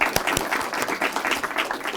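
Audience applause for a panel at a 2022 town hall on voting, a dense, close patter of clapping hands with a few sharper claps, steady and fairly loud throughout.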